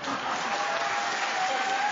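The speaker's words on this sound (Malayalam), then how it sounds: "കയ്യടി പോരാ." A crowd at a Gopinath Muthukad magic show applauds in a continuous, even wash of clapping that holds at a moderate level and sounds somewhat distant.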